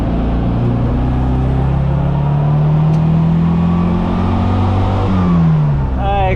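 Engine of a retro Mini Cooper droning steadily while driving, with the revs rising and falling and a loud, close cabin sound throughout.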